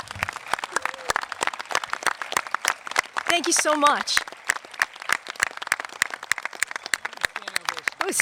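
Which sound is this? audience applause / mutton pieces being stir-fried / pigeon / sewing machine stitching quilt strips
audience applause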